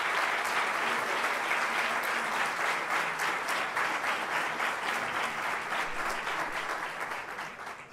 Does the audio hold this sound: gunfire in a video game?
no